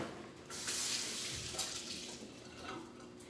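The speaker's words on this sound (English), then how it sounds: "So, okay, rinse this a little bit." Tap water runs steadily over food being rinsed for a crockpot roast, a close, continuous splashing rush that shifts slightly as the food moves under the stream.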